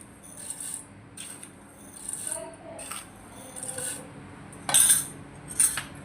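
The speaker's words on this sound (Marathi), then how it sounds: "आणि हे व्यवस्थितपणे मी फेटून घेते" Sugar being whisked into mango lassi with a spoon, irregular clinks and scrapes of metal against a bowl in short bursts, close and moderately loud.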